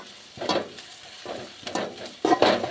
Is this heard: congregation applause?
no